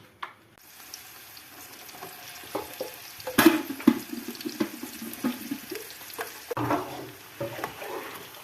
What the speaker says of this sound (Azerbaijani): Ve bunu beləcə qarışdırıb qovuruq.